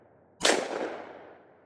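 A single loud, close gunshot from a Taurus TH10 10mm pistol firing 115 grain Extreme Defender ammunition at an outdoor range, with a sharp crack and a reverberant tail that fades over about a second.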